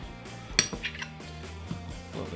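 A utensil spreads a ricotta mixture across zucchini slices, giving a few light metallic clinks and scrapes, one sharper tap near the start, over a quiet kitchen background.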